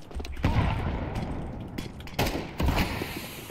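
Rapid Vulcan minigun fire from a video game, dense gunfire bursts in two loud sustained waves with a short lull between, no talk over it.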